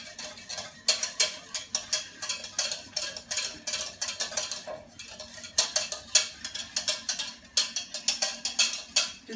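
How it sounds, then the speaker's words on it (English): Spoon stirring a creamy pepper sauce in a pan for fillet steak, scraping and clinking against the metal in a quick, steady rhythm of repeated strokes, close and fairly loud, with no talking. "This is very noisy and takes a while. But if you don't keep stirring it, it sticks to the bottom and it burns."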